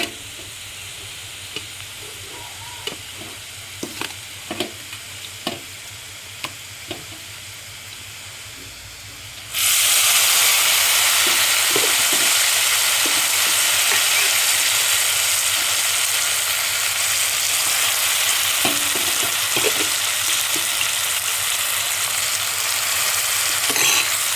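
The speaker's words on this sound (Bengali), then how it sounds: "সব কিছু ভাজি কমপ্লিট এবার দিয়ে দেবো সেদ্ধ করা সবটা" Boiled taro greens with prawns go into a hot frying pan after a quiet stretch of light utensil taps, bursting into a loud, sustained sizzle that continues steadily with occasional stirring knocks.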